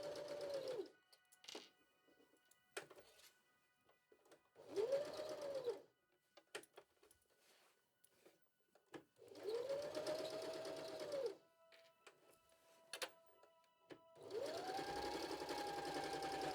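Sewing machine stitching an appliqué quilt square with black thread, running in four clear bursts of steady whirring with quiet pauses between, close and fairly loud, with no talking.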